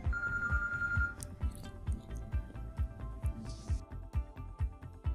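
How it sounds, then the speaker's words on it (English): A phone ringback tone on a call placed from a softphone app to a mobile number, heard as repeated rhythmic ringing pulses, fairly quiet and alone. "The call is connected now and you can hear the ring from another phone."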